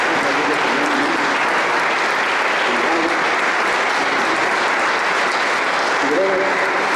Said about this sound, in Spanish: Un aplauso al Señor del Consuelo.